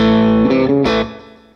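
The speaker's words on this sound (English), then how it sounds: "that was my '68 pink Paisley through the red Vox" A '68 pink Paisley electric guitar played through a red Vox amp gives a short, thick distorted chord phrase with a bend, ringing loud and then fading out, with no voices.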